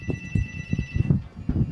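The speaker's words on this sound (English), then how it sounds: "Oh, we're getting a phone call." A telephone rings for an incoming call in a radio studio, with a steady repeating ring tone in the background behind some low thumping.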